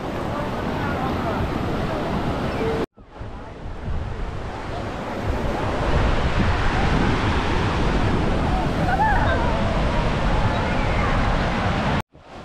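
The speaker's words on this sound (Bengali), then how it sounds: "এই যে এই বড় বড় ঢেউ, এই বড় বড় ঢেউ, এই দেখো।" Big sea waves break on Puri beach in a loud, continuous roar under heavy wind buffeting the microphone, with a voice partly audible and two brief cuts in the sound.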